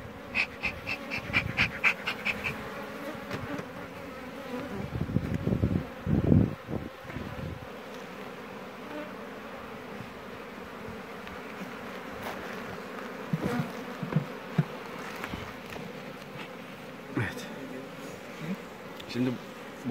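Honeybees hum around an open beehive during hive work, a soft, steady swarm drone running throughout, with occasional handling knocks and rustles and brief close buzzes, and quiet talk in places.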